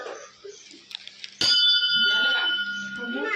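A bell struck once with a sharp clang that rings on for a couple of seconds, with voices talking before and around it.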